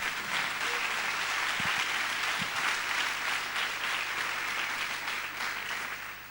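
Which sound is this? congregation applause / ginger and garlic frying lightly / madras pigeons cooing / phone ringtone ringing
congregation applause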